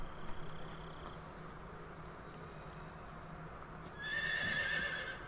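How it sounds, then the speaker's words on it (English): A horse whinnies near the end in the video game Metal Gear Solid 3: Snake Eater, rising out of a low, steady background hum. "That was just like a stock horse sound effect."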